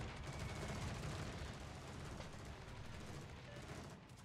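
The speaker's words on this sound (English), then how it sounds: "3 bomb hits and a fire." A bomber attack strikes an enemy warship in the naval combat game World of Warships, with a dense, sustained rumble of explosions and battle noise rolling steadily and fairly loud for several seconds.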